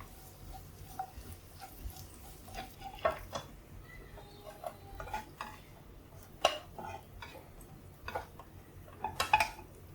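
Fried bitter gourd is scooped out of a pan with a metal utensil, sparse scraping clinks and taps against the pan over a faint background hiss, without speech.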